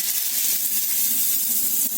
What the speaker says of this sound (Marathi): मस्त रसरशीत फोडली झाली चांगला तडका बसला